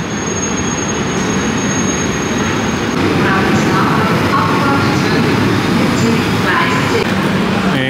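A double-decker train arriving at Zurich main station gives off a steady, loud rumble of wheels and running gear from inside the carriage, with faint squeals and muffled voices underneath.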